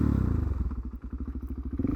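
A motorcycle pulls up sharply, its engine chugging in a close, low, rapid string of thumping beats that dip briefly mid-stop and then steady again.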